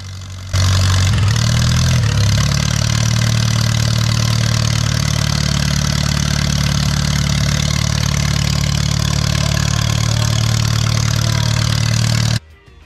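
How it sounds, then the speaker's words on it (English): A restored 1952 Farmall Cub tractor engine cranks and fires up, briefly revs, then settles into a steady, loud idle close by before stopping abruptly near the end. "This clip shows the first start of the tractor after we coated it in primer."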